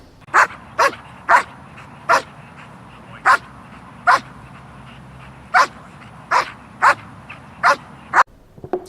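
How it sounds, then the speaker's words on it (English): A black German Shepherd barks on command, about a dozen sharp, loud single barks spaced roughly half a second to a second apart against a quiet background. "barking on command while holding the body while moving"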